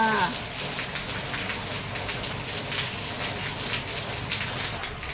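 Steady rain falls on garden plants, a dense continuous patter of drops on leaves heard up close with no voices.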